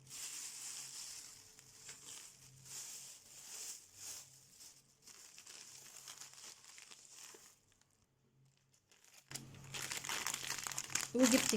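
Plastic grocery bags of shopping are handled and crinkled close by in a kitchen, a continuous rustling and crackling that pauses briefly, then returns louder, with faint voices in the background.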